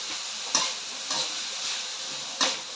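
Shiitake mushrooms, minced pork and onion stir-fried in a pan: a steady soft sizzle runs throughout, broken by a few brief spatula scrapes against the pan, close and moderately quiet, with no voices.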